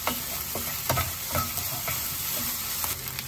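Fried rice stir-fried with white pepper in a pan sizzles steadily while a utensil scrapes and tosses it in regular strokes, close and moderately loud, with no talking.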